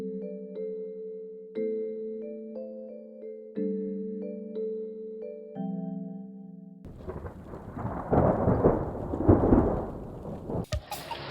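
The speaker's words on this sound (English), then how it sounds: "imagine the rain beginning to taper off and a soft glow appearing in the sky" Rain and rumbling thunder rise after several seconds of soft, sustained musical chords, creating a calm meditation soundscape. A broad, steady wash of rainfall swells with deep thunder rolls and grows louder toward the end, with no voices.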